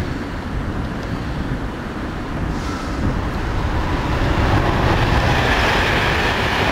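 A train rolls past near a medieval motte and Norman castle, a steady broadband rumble that builds gradually and stays loud throughout with no voices.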